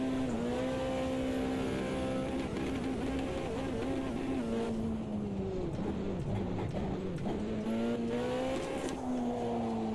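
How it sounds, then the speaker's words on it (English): An RX rally car engine holds a steady high rev while the clutch slips under load, its droning note sagging and recovering midway before climbing again, loud and close with no talk. "I'm really trying as hard as I can to completely burn out the clutch here"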